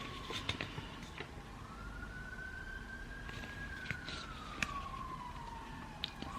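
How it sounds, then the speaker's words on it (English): A distant emergency siren wails in a slow rising and falling sweep over faint traffic rumble, with a few small clicks nearby. "I'm sorry about all the sirens at the moment."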